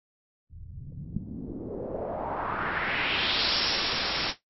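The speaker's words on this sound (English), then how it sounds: "Now that sounds suspiciously like a white noise filter sweep" A white noise filter sweep made in Logic 8 rises steadily from a dull rumble to a bright hiss over a few seconds, then cuts off abruptly.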